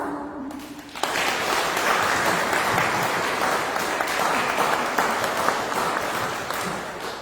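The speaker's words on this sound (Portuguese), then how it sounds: "Podemos fazê-lo com uma salva de palmas?" A church congregation at a Reformation service applauds in a steady, even wash of clapping that sustains for about six seconds before easing slightly.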